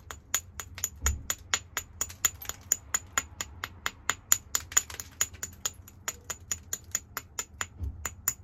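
A hammerstone knocks flakes off a hornstone biface in a long, steady run of sharp, bright, clicking strikes. The blows come at a regular pace, close and clear, with two duller thuds mixed in and no speech.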